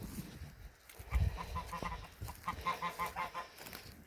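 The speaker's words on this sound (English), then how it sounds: "I think the chooks have already took themselves in" Chickens cluck softly at dusk, a quiet run of short, repeated clucks close by, with a few light thumps of movement among them.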